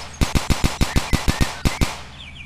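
Gunfire aimed at the player in a shooter video game: about ten sharp, evenly spaced shots in a quick rhythm, then a short pause and two more, loud and close.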